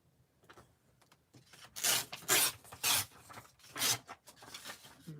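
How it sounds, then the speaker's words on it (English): Paper being torn along a lined-up edge while layering vintage-style handmade cards: several close, crisp ripping bursts in quick succession after a quiet start, then softer rustling, with no voice. "I'm just going to kind of line it up here and tear."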